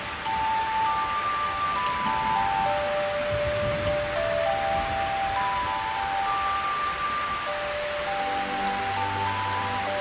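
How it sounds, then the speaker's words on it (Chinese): Rain falls steadily as an even, continuous hiss that fills the whole stretch, with faint ringing tones drifting over it and no voices. "怎么又下雨了？"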